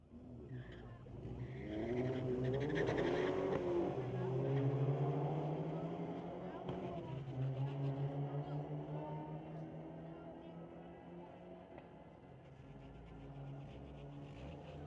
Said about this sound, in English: Next pair waiting patiently in the water box is Marcus Nicholson with the 2011 Volkswagen Golf GTI, squaring off against Lyndon Savard with that 2-liter Golf